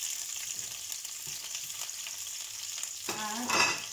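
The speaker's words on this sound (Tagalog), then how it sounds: "At itong ating sili, dahil sa mainit na naman itong kawali, ay atin ding ilalagay." Italian green peppers dropped into a hot pan, a steady sizzling hiss with a few faint stirring taps, then a brief louder burst near the end.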